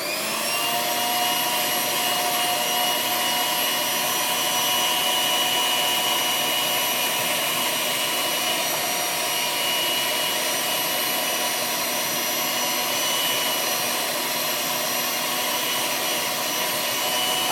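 An electric whisk whips cream for tiramisu with a constant high-pitched motor whine, loud and close, holding steady for the whole stretch with no talking.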